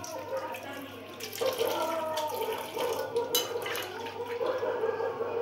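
Tap water runs steadily while freshwater river fish and prawns are rinsed and cleaned in a home kitchen, with intermittent splashing and sharper trickles close by.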